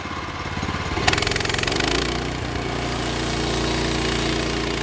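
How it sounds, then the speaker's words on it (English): An 18-horsepower Briggs & Stratton Vanguard V-twin engine with electric start runs a Norwood LumberMate LM30 portable sawmill, chugging steadily and loudly with a brief rise in revs near the start before settling back into an even drone. "an 18-horsepower V-twin Briggs & Stratton Vanguard electric start"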